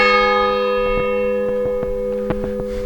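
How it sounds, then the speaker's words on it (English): Church bell in Tavira's old town, Portugal, ringing loud and sustained with a long humming decay, while faint footsteps or light knocks tap irregularly outdoors. "There's the bell tolling."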